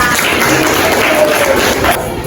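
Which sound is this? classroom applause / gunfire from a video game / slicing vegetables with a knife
classroom applause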